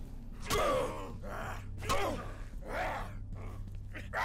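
An enemy in a 2005 horror video game breathes heavily and close, a run of harsh gasping inhales and groaning exhales that come in uneven bursts, about five breaths in a few seconds.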